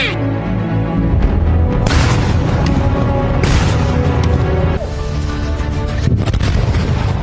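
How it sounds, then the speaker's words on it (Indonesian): Heavy booms roll out continuously from the disposal of expired military ammunition at Cibalong in Garut. Fresh blasts strike at intervals on top of a loud, sustained roar. "Ledakan terjadi saat pemusnahan amunisi kadaluarsa."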